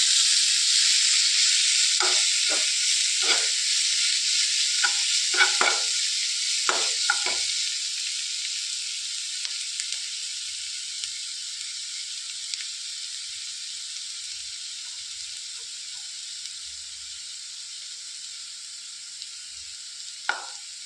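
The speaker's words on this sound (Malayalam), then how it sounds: "ഒന്ന് ഉള്ളി വാടിക്കട്ടെ" Onions sautéing in a pan for a mutton masala, giving a steady bright sizzle and hiss with a few stirring scrapes early on, then settling into continuous frying.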